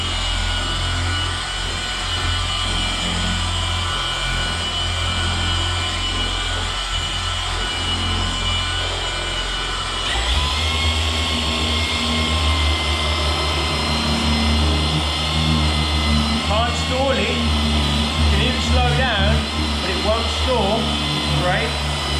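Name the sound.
Milwaukee M18 Fuel cordless polisher polishing car paint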